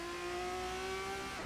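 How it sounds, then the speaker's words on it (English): An F3 race car engine in a racing video game at Imola, heard through turns 11 and 12 as a loud, sustained high-pitched whine that holds steady and then drops slightly at the end. "Listen to that engine going through turn 11 and 12"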